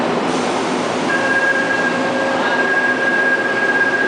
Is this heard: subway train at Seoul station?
yes